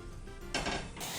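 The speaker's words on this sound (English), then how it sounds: "So keep stirring." A spoon stirring creamy vanilla fudge mixture in a pot, quiet scraping and clinking against the pot, growing louder and denser midway.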